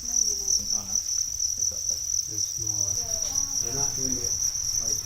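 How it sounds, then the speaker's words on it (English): Crickets at a cricket farm in Cambodia chirp in a dense, continuous high trill, close and loud, with voices talking faintly underneath. "We are now at a cricket farm."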